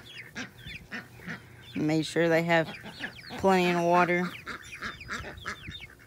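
A flock of loud, excited ducks and growing chicks calling before feeding: repeated harsh honking quacks in bursts, close by, with someone talking briefly over the noise.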